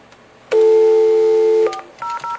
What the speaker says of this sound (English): Let's make another call from Cisco phone